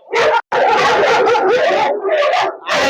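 A dog barks and howls in loud, close, continuous bursts, with whimpering yips and one brief pause.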